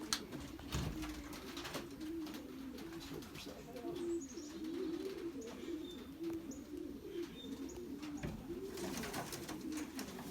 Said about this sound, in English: Here's another bird.